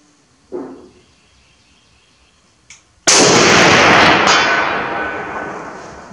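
A Finnish M39/43 sniper rifle fires a single loud, sharp gunshot at close range, and the blast rings out with a long decaying echo. A couple of faint clicks and knocks come before the shot.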